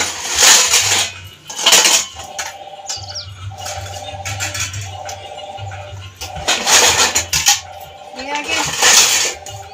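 Dishes and pots clatter and clink in sharp bursts as they are set on a dish rack in a home kitchen, with a low hum and birds chirping faintly between the bursts.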